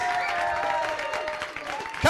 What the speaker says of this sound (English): come and grab your applause.